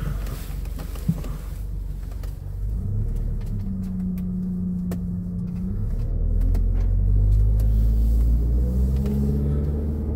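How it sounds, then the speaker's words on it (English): 2011 Mitsubishi Eclipse Spyder on a test drive, a continuous low engine and road rumble from inside the car that swells louder toward the end, with a few faint clicks and knocks. "let's take it for a fast test drive with you guys so you can see how it drives"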